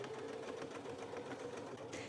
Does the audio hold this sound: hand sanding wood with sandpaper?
no